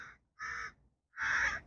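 Crows caw from somewhere above, three separate harsh calls spaced out with short pauses, the last one longest and loudest, fairly close and clear with no voices.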